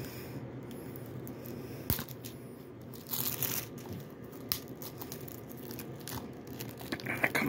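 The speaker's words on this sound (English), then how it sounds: "the Blu-ray wrapping is easy to unwrap" Close crinkling and crackling of thin plastic wrap being pulled and torn off a Blu-ray case, with scattered sharp snaps and rustles throughout.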